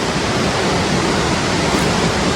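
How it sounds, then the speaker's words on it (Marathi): Dugarwadi waterfall roars as a loud, steady broadband rush of falling water, close and continuous with no breaks or voices throughout. "direct waterfall"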